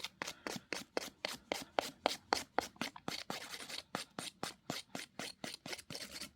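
An 80 grit nail file is worked over gel nails in quick, regular rasping strokes, about three per second, close and fairly quiet with no talking.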